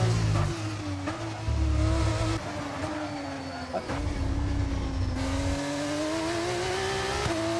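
Race car engine in an F2 racing video game at the Spain circuit, a steady loud drone with a rising pitch, running continuously under calm commentary.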